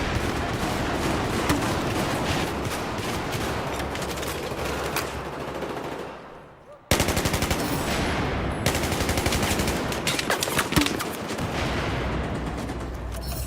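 Relentless Battlefield video game gunfire, rapid automatic bursts stacked with heavier shots and booms, loud and nearly unbroken, easing off briefly midway before erupting again at full intensity.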